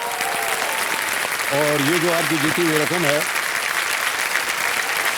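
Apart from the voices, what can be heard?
studio audience applause for quiz contestant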